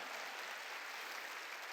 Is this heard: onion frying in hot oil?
no